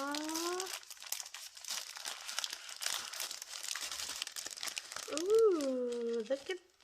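A mail package being cut open from the bottom, with paper crinkling and tearing up close in a dense, continuous rustle while someone talks over it.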